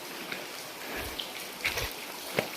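Water splashing and dripping at Penchalakona waterfall, a steady wet hiss with a few louder droplet hits near the microphone, heard alone.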